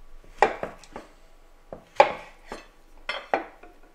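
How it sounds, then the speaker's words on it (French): A knife cuts a peeled tomato on a board, with several crisp, separate chopping knocks spaced irregularly, close and fairly loud, in a quiet kitchen with no talk. "Une fois que vous avez pelé la tomate, on vient la couper"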